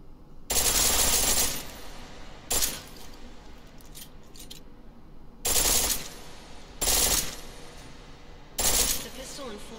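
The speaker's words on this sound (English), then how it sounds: "The pistol in full auto will take down targets fast, but it'll burn through your ammo." Bursts of full-auto pistol fire at a video game shooting range, four or five loud rapid strings each lasting about a second, separated by pauses.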